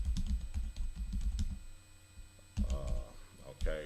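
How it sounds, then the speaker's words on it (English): Filler text is typed on a computer keyboard in quick, close clicking bursts, with a short lull midway before the keystrokes resume. "so we just type it in, just some filler text here."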